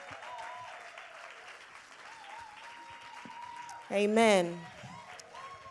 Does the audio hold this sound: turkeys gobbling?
no